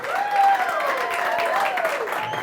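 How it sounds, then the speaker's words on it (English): An audience claps for a guest comedian at a live comedy show, a sustained wash of applause from a crowd, with a voice audible over it. "Round of applause for our guest comedian, Terry North."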